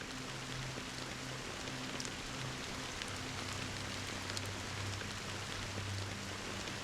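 Steady rainfall in the game Honkai: Star Rail, a soft continuous hiss of drops on surfaces with no voices, even and unbroken throughout, with a faint low hum beneath.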